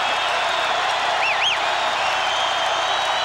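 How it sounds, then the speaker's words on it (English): Basketball arena crowd during a Creighton vs. SIU college game, a steady loud roar of cheering filling the whole stretch, with a brief whistle-like tone rising and falling near the middle. "Listen to this crowd."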